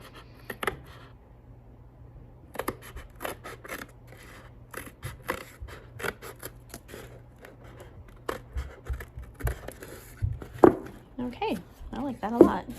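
Scissors snip through paper for a papier-mâché rock craft, with sharp close cuts in irregular bursts; someone talks between the snips.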